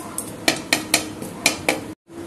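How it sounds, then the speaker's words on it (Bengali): Dry-roasted grated coconut is tipped from a pan into a bowl, with about six sharp metallic clinks and scrapes of utensil against cookware at a close, moderate level, then a brief silence. "এটা আমার হয়ে গেছে, এটা আমি এবার একটা পাত্রে ঢেলে নেব।"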